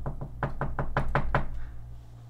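Someone knocks on a door seven times in a quick, even series of loud, close thuds, then a quiet low hum continues alone.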